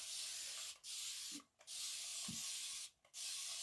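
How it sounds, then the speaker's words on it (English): Water sprayed onto a chalkboard from a spray bottle comes in three close, loud hissing bursts. Short gaps and faint trigger clicks separate the bursts. "So I'm just spraying water all over this chalkboard."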